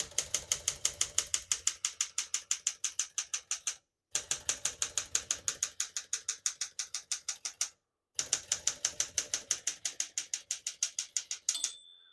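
Rapid, steady keystrokes clatter from a 1966 Smith-Corona Sterling portable typewriter, typed in three bursts separated by brief pauses, close and loud, with a faint bell-like ping near the end.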